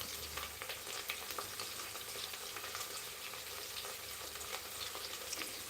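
Carrots and green peas frying in a pan for khichdi, a continuous bright sizzle with scattered crackles and pops, close and steady with no talk.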